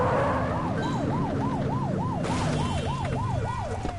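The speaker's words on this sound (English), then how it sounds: "Get behind them and whip the siren to make them pull over." A police car siren in the game The Precinct wails in a fast, repeating yelp pattern over a running car engine, loud and close, cycling steadily for several seconds.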